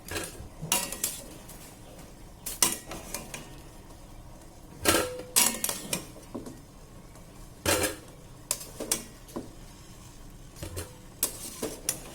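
Boiled potatoes lifted out of a cooking pot and dropped into a bowl after the stove is switched off, giving a run of sharp metallic clinks and scrapes of utensil on pot and dish, spread irregularly throughout at close range.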